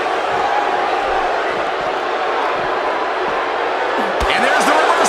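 Capacity arena crowd cheering in the WWE 2K17 wrestling game during a Fatal 4 Way match, a dense continuous roar with a sharp impact near the end, heard under commentary.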